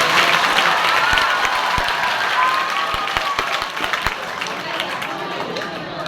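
An audience claps loudly and steadily throughout, with the applause slowly thinning toward the end and a voice speaking faintly underneath.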